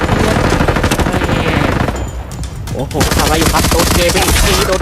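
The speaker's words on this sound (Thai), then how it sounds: "อ๋อเสียงปืนเสียงปืน" Rapid bursts of video game gunfire in Roblox Frontlines crackle loudly and densely, with a brief lull in the middle before the rapid shooting resumes.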